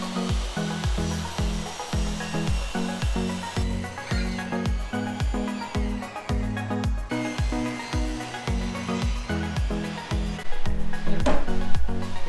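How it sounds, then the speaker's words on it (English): A table saw cuts down a plywood top for a DIY coffee bar, its loud, steady whine pulsing with repeated rhythmic passes, growing slightly louder near the end. "I'm going to go ahead and cut this down on the table saw"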